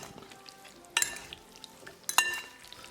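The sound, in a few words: mixing spices and chicken with a fork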